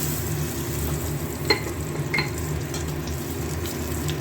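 Ginger and green chili fry in hot oil with a steady, close sizzle. Two brief sharp crackles or pops rise above the continuous frying.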